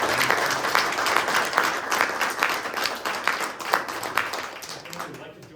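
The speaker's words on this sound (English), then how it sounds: "A round of applause for." Audience members at a Women Veterans Day proclamation signing with the governor applaud with a dense, lively patter of many hands that tapers off near the end, with some voices mixed in.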